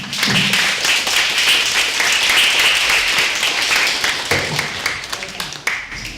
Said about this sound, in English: So I just want to give Julia a round of applause.